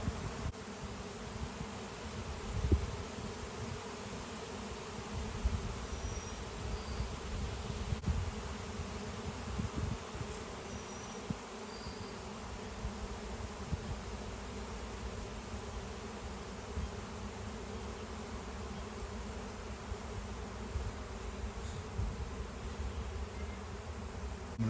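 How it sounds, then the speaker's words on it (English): A honeybee swarm in a backyard makes a continuous, even buzz of thousands of bees. The sound is faint and distant, steady throughout, with occasional nearer passes and no talking. "Thousands of bees."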